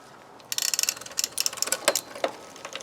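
A quick series of small metallic clicks and ratcheting ticks, close by, in short uneven bursts with brief pauses, as an adjustable spanner tightens a part on a vintage bike.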